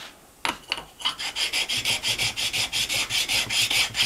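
A small sharpening stone rubs back and forth across an Eaton posi ring gear surface, a steady rhythmic rasping of about twenty quick strokes, close and fairly loud.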